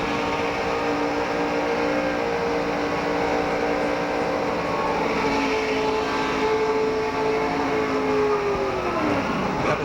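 Roar of NASCAR stock cars racing at over 190 mph at Talladega, a continuous loud engine drone with a pitch that sweeps down near the end as a car passes.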